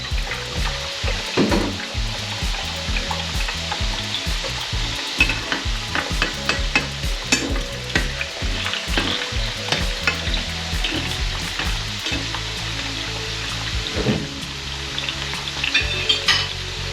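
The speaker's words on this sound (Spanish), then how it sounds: "tenemos ya el aceite calentito para freír la clara del huevo" Egg white frying in hot oil over lowered heat, crackling and popping steadily at close range with dense spitting bursts, no talking, loud and continuous for the whole stretch.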